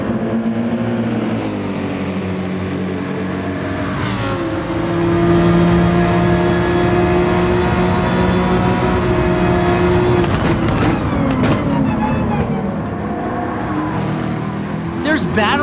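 Race car engines in the video game Gran Turismo 7 at a DTM race on the Nürburgring, loud sustained droning and revving with gear changes and cars passing, under steady commentary talk.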